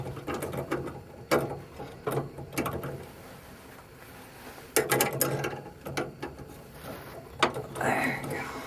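A ratchet tightening a nut on a 1956 Ford power cowl vent, with repeated bursts of rapid clicking in short strokes and pauses, close by, with someone speaking quietly around them.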